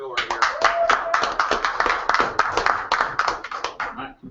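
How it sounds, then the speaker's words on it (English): Audience applause at an open mic night in a cafe, a dense run of clapping close to the mic that holds steady and then tapers off, with voices calling out over it. "Big round of applause for Phil right here."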